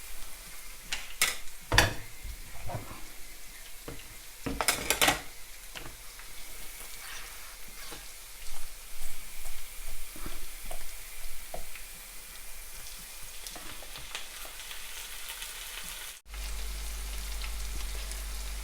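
Garlic frying in oil in a pan for stir-fried eggplant with oyster sauce, a steady crackling sizzle punctuated by sharp clinks and scrapes of a utensil, then a louder low rumble near the end.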